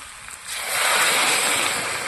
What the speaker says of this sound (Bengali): এখন দিয়ে দেবো আমি গরম জল